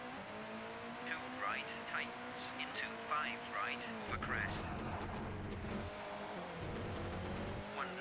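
A rally car in the video game Colin McRae Rally drives with a steady engine drone and shifting revs, with brief tire chirps and a rougher gravel rumble after a few seconds, while people talk over it.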